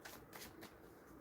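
Tarot cards are riffled and shuffled in quick flicking bursts, close up and soft, with a faint hiss between the riffles.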